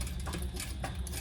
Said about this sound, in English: And then I'm going to top stitch that.